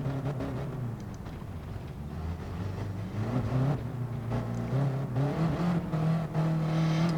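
A South African driver's race car engine sputters and revs repeatedly while struggling to start, its pitch rising and falling in uneven bursts before settling into a steadier roar.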